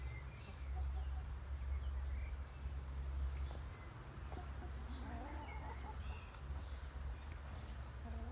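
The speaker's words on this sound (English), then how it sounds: "Okay, here are the chickens." Chickens cluck softly at a farm site over a steady low outdoor rumble, with scattered quiet bird calls and soft movement noises throughout.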